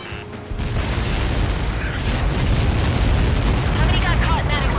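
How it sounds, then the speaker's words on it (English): A missile strike in the combat flight game Ace Combat 7 sets off a sudden loud blast that swells into a sustained, rumbling roar lasting several seconds. "How many got caught in that explosion?"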